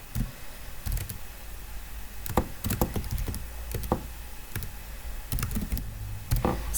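Fingers type on a computer keyboard while filling in a spreadsheet table, with scattered bursts of quick, light key taps separated by brief pauses, close and fairly quiet, with no talking.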